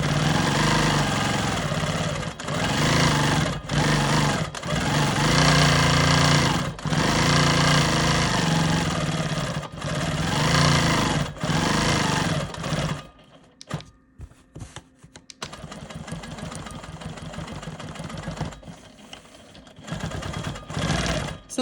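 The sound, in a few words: sewing machine free motion quilting a square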